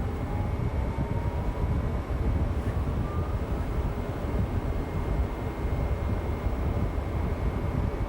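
Aircraft engines build to takeoff thrust on a runway, a loud, continuous broadband roar with a faint rising whine and no voices.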